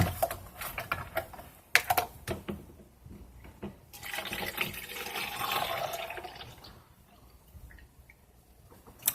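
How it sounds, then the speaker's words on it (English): Pink drink mix being topped up with white strawberry cranberry juice, poured in until the cup fills, giving a soft splashing, trickling liquid sound with a few sharp clicks and knocks, fairly quiet and close. "you're just going to add all, until it fills up, of the white strawberry cranberry juice."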